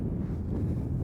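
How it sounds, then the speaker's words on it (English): Steady low rumble of wind buffeting a camera microphone outdoors on a cloudy, windy day near a snow pile, continuous and loud with no speech. "It's pretty windy today."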